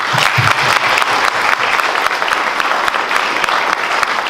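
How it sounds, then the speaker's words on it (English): Loud, steady applause from an audience fills the whole stretch, with dense clapping that doesn't fade. "Can we give her applause?"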